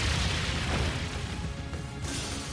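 The Brionac weapon firing in Trails of Cold Steel III, a heavy, sustained explosive roar with a rumbling low end that begins already loud and slowly fades, with another burst near the end.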